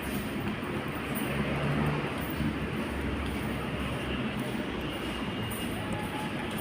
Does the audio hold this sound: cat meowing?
no